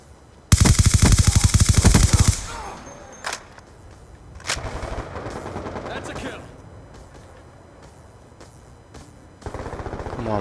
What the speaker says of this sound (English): My enemies are sniping quite a bit.